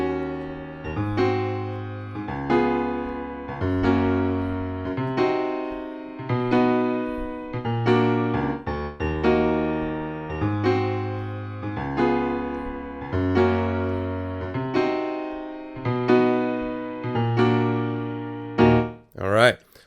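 Solo piano playing the intro and verse of a song, with repeated rhythmic chord stabs over a moving bass line, each phrase swelling and decaying in a steady groove, ending with a sharp click.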